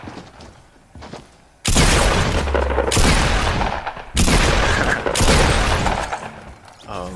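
Heavy shotgun blasts from a first-person shooter game boom in loud, sustained bursts, several shots close together, with a voice faintly underneath.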